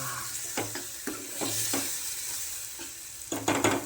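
Homemade masala sizzles in a hot pan for a black pavta bean amti, with a steady frying hiss broken by several distinct scrapes of stirring, near and fairly loud.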